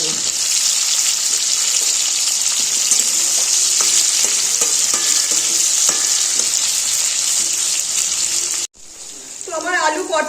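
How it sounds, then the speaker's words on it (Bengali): Potatoes and pointed gourd sizzle and crackle in hot oil in a wok, a dense continuous frying hiss with stirring clinks, ending in a brief pause and a splash of water. "তাহলে একবারেই আলু পটল সব ভাজা হয়ে যাবে।"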